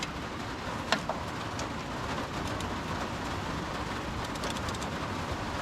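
Steady, soft rain falls outdoors on a driveway, a quiet even hiss of drops with a couple of faint clicks and no talking.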